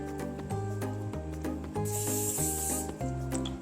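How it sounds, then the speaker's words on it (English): Cooking spray hisses onto an air fryer rack in a single sustained burst of roughly one second, heard over steady background music. "take your air fryer rack and spray it lightly with cooking spray"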